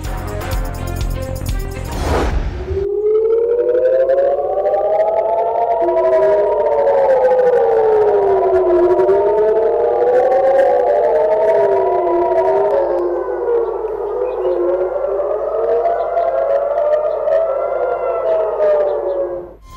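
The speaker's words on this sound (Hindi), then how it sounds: "तल अवीव समेत कई इजरायली शहरों में सायरन बज उठे।" Air raid sirens wail across Israeli cities including Tel Aviv during an Iranian missile attack, loud overlapping rising and falling tones that sweep continuously for nearly twenty seconds after a brief burst of other sound.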